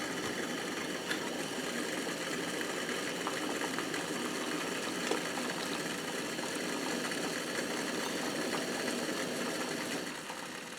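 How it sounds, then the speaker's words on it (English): A pot boils on a camp stove at a back-step camp kitchen, heard as a faint, steady, unbroken roar and hum that drops slightly near the end, with no talk. "Normal pot's boiling."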